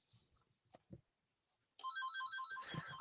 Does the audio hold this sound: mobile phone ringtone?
yes